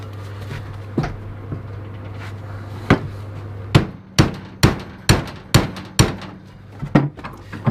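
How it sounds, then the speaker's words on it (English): A hammer strikes a steel tube for a Jeep XJ rear fender flare, with a few scattered blows and then a steady run of loud, sharp metallic hits close by. "I'm going to have to take the hammer there"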